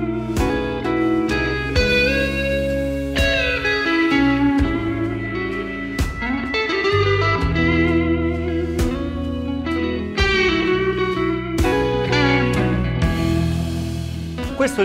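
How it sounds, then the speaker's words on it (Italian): Electric guitar runs through a Power Boost pedal with the Hiwatt side switched off, strummed chords and picked notes ringing loud and close in phrases with short pauses between them, with no voices. "questo è il suono del Power Boost e basta."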